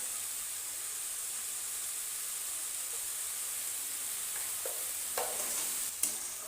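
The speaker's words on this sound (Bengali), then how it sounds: "এরপর ঝিঙেটাকে নাড়াচাড়া করে" Ridge gourd is stirred in a hot pan while cooking for a rohu fish curry, giving a steady soft sizzling hiss with a few clinking scrapes of the spoon toward the end.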